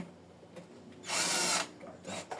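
Battery-powered impact wrench used while opening a 120Ah LiFePO4 battery, a loud half-second burst of whirring up close, with faint handling noises before and after.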